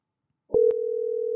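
A telephone line gives a short click, then a steady continuous tone hums on alone while calling someone, clean and unbroken after the pickup.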